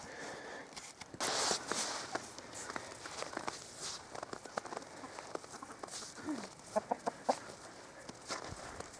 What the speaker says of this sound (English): Messing with chickens today, boys. They're wild.